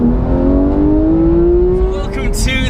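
A Porsche GT4 sports car engine pulls with a smooth, steadily climbing note, heard close and loud from inside, with a few brief sharper bursts near the end.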